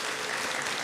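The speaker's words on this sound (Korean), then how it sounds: "우리 다 같이 환영의 박수 하겠습니다." A church congregation at a Sunday youth worship service applauds in welcome, a dense, steady wash of many hands clapping at once, filling the room evenly from start to finish.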